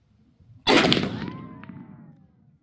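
A single sharp gunshot from a .45-70 Browning 1886 lever-action rifle cracks out, then decays over about two seconds with a rolling outdoor echo.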